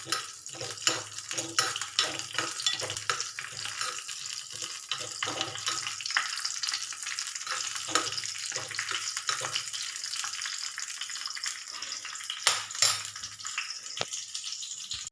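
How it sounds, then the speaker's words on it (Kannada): Cashews and raisins frying in two spoons of ghee over a low flame give a soft, steady crackling sizzle close by, with occasional stirring clinks of a spoon against the pan and no voices. "ಇದಕ್ಕೆ ಎರಡು ಚಮಚ ತುಪ್ಪ ಹಾಕ್ಕೊಂಡು ಲೋ ಫ್ಲೇಮಲ್ಲಿದ್ದು ಗೋಡಂಬಿ ದ್ರಾಕ್ಷಿಯನ್ನು ಹುರಿದುಕೊಳ್ಳಬೇಕು"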